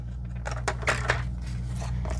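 Scissors cutting cardstock for a handmade card, a few quiet crisp snips and rustles close by over a steady low hum.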